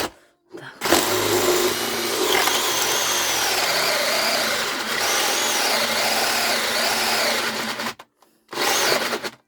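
An Einhell cordless 50 Nm drill-driver, freshly repaired, runs continuously at second speed with a steady motor whine that shifts pitch slightly. It stops briefly near the end and then restarts.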